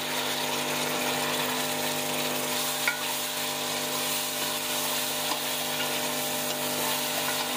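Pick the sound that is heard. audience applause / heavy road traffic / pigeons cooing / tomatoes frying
tomatoes frying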